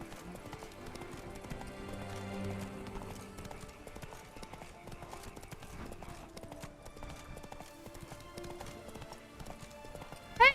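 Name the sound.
horse hooves clip-clopping in Witcher 3 video game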